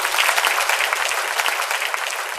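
Studio audience gives dense, continuous applause for a singer after her performance, a steady, even clapping that fills the whole short stretch.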